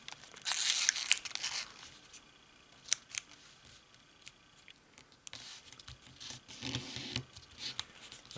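Paper for an origami rocket ship is folded and creased, giving quiet scattered rustles, scrapes and crinkles in uneven bursts, close and alone without talk.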